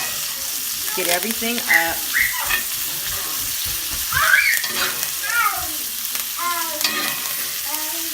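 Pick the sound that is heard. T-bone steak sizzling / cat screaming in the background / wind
T-bone steak sizzling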